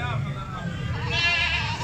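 A goat bleats at a livestock market in Gujrat, one wavering, drawn-out call rising over steady crowd murmur and background noise.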